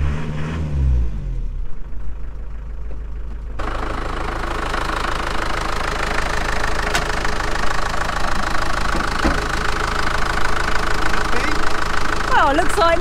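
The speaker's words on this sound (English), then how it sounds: "We probably should have checked the fluids before we started the engine." An old van engine that has sat unused for days cranks and catches, then settles into a loud, steady, rough idle with a knocking edge that runs on to the end; voices are heard over it early on.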